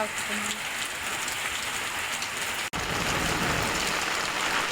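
Steady, heavy rain falls continuously on a farm with a cattle shed after two days of nonstop downpour, close and loud throughout with a brief dropout partway through.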